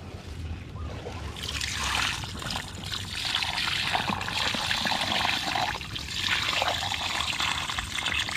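Water is poured into a crab burrow hole in the ground, giving a close, continuous splashing trickle that holds steady for several seconds with no talk.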